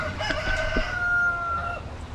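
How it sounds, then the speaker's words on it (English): A rooster crowing nearby outdoors, one drawn-out cock-a-doodle-doo call, clear and moderately loud over a low background hum. "Boy, that rooster's really going to town."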